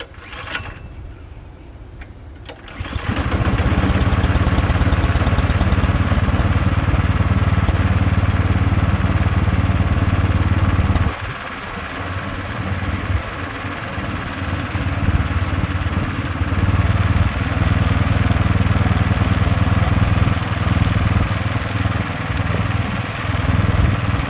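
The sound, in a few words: Craftsman snowblower engine running after start-up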